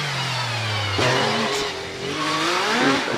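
A race car climbs the Prescott hillclimb, its engine close and loud, revving and changing pitch through gear shifts as it pulls away up the hill.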